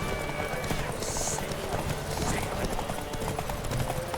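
Horse hooves galloping during a horse race in the video game The Witcher 3, a rapid steady clip-clop under game background noise, with a brief whinny-like sound.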